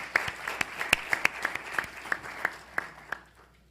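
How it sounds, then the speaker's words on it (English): An audience at a panel event applauds a speaker, a scattered run of individual claps, about a dozen sharp hand strikes spread irregularly over a few seconds before fading out. "so let's give him a round of applause."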